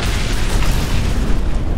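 In No Man's Sky VR, a rocket strikes an enemy ship and explodes. A loud, dense, rumbling blast fills the whole stretch without any break.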